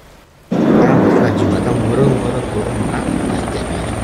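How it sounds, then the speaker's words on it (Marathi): A helicopter flies overhead, its loud, heavy rotor rumble starting abruptly and holding steady and close, with voices faintly mixed into the roar. "हेलिकॉप्टरचा आवाज येऊन राहिला."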